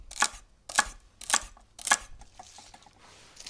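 Four crisp knife chops through celery on a cutting board, evenly spaced about half a second apart, close and distinct, followed by quiet handling noise while preparing ingredients for a winter soup.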